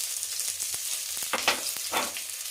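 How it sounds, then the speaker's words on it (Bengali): Chopped onion, ginger and slit green chillies dropped into hot oil, a close bubbling sizzle with spatula scrapes and taps in a short burst. "এবার আমি তেলের মধ্যে দিয়ে দেবো পেঁয়াজ কুচি, আদা কুচি আর দুটো কাঁচা চেরা লঙ্কা।"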